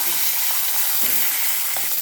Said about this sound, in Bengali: ওদিকে কপিটা ভাজা হতে হতে আমি বাকি মাছের মাথাগুলো এখানে ভেজে নিচ্ছি।